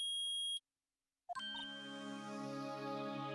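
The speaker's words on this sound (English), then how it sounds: "it's beeping. The metal detector's found something." A metal detector in a video game gives a bright electronic ding, then after a brief silence sounds a louder sustained chiming tone that rings on steadily.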